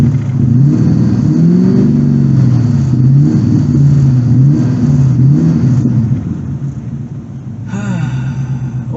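A Chevrolet Corvette C4 with an acceleration fault is held at full throttle, its engine giving a loud, sustained, wavering drone that eases slightly near the end.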